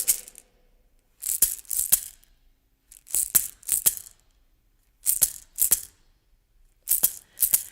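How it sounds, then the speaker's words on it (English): A group of people clapping along to a song at an arts festival, sharp hand claps in short bunches of two or three, separated by brief pauses, fairly close and with no talking. "And clapping along can sound like this."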